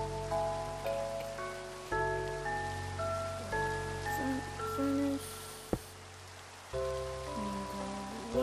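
Soft, steady rain patters in the blocky world of Minecraft VR, sitting quietly beneath tonal game music notes, with one sharp click near the middle.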